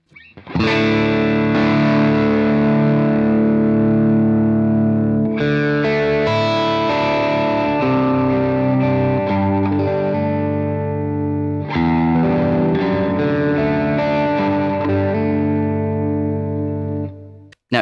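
Electric guitar driven through a Great Eastern FX Co Design a Drive overdrive pedal, playing loud, sustained distorted chords with full harmonic body and steady level throughout, alone with no voices.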